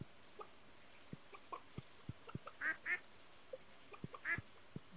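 Ducks quack in the farming video game Stardew Valley, a few short nasal quacks in two bursts over soft ambient game sounds and scattered light clicks.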